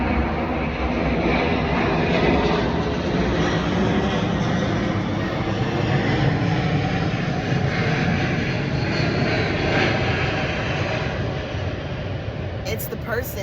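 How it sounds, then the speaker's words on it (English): An airplane passes overhead in a steady, loud, broadband roar that holds evenly for the whole stretch, with no other sounds on top. "here we go again, another plane."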